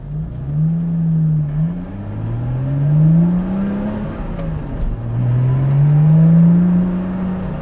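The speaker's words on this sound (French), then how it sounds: "Surtout que l'accélération, sans même rouler vite, on s'arrache de notre position avec une aisance." Lotus Exige Sport 350 accelerating on the road, a loud, close engine drone rising in pitch through several gears, with short dips at each shift heard from inside the car.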